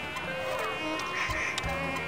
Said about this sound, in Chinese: 蚊子还是一样多啊。